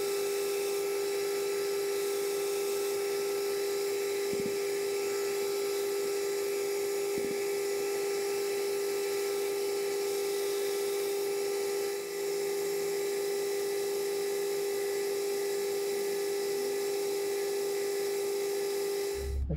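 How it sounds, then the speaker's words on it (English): Steel part for an MT3 fly cutter being drilled to take an M12 thread, a steady, loud high whine from the drilling machine running continuously with a few faint knocks beneath it. "Just got to round this edge off, chamfer that and drill it and put a M12 thread up there"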